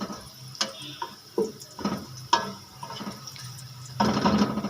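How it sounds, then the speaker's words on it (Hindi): Water poured into a hot pan of fully browned onions while cooking vegetable pulao, giving a steady splashing and sizzling burst near the end after quieter kitchen clatter. "तो अभी इसके अंदर हमने हल्का सा पानी डालना है।"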